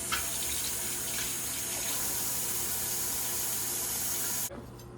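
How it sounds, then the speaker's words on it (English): Tap water runs steadily into a sink as produce is rinsed beneath it, a continuous close splashing rush that stops abruptly near the end. "you wanna rinse off your produce real quick"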